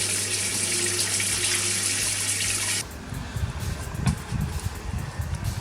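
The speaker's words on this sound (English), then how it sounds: "all you got to do is pour water down the sides as well" Water is poured down the sides of an Indesit IDC 75 condenser dryer, splashing steadily beside a low mechanical hum, then the pour stops and scattered drips and clunks follow.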